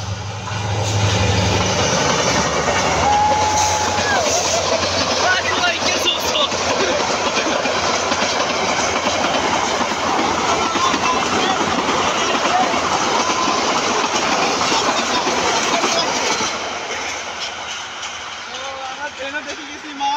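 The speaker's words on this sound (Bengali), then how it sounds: "তো গাইস ট্রেন চলে আসছে অবশেষে, দেখেন ট্রেন, এটা ডাইরেক্ট ট্রেন" A direct train passes along a railway line, a loud, steady rumble of wheels and cars filling most of the span before easing off near the end, with voices talking over it.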